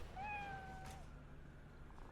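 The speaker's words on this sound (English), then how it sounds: "Nice kitty." A single drawn-out cat meow in Cyberpunk 2077, clear and fairly close, sliding downward in pitch over a soft, muffled background hum.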